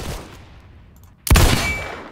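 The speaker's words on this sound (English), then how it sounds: "I killed him with one shot" A single loud gunshot in the Roblox video game cracks suddenly after a quieter stretch, followed by a ringing decay.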